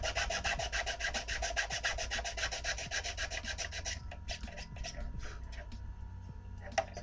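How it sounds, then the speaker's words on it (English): Sandpaper rasps rhythmically, sanding dried glue on a Predator cosplay build, fast strokes for several seconds, then slower, quieter rubbing. "So I'm just sanding down my glue right now"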